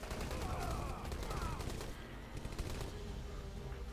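Rapid gunfire bursts and recoiling shots from a Rambo-themed shooter game, dense and continuous across the moment with some faint game noise beneath.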